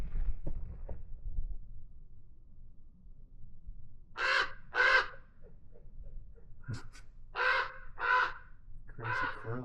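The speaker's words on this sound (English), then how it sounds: "Crazy crows, what the heck?" Several crows caw in short bursts of two or three calls among the rock walls of Cathedral Canyon, Nevada, moderately close over a low steady background rumble, with no talking.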